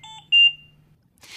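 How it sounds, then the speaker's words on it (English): Medium priority alarm from a Philips Trilogy 100 non-invasive ventilator: clean electronic beeps in a short group, a quieter tone followed by a louder one, close and alone in a quiet room. "This is a medium priority alarm. You hear three beeps in a repeating pattern"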